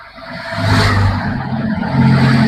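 A car engine revs up as the accelerator is gently pressed during a beginner's driving practice in first gear, a loud, steady mid-pitched roar that swells and holds, close by and alone without talk.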